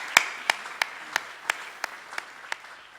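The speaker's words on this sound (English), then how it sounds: "That's an applause to all the young people that have helped us" At a rural parliament plenary session, a few sharp, evenly spaced hand claps ring out one after another in a slow steady rhythm, about nine in all, over a quiet room.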